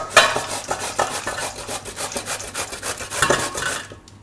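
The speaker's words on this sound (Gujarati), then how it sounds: "તો 2 દૂધી આપણે છાલ કાઢી લીધી છે, એને આપણે છીણી લેવું આ રીતની છીણીમાં." Peeled bottle gourd grated by hand on a metal grater in a home kitchen, a close, steady run of rasping strokes, about a dozen in quick rhythm, with no talking.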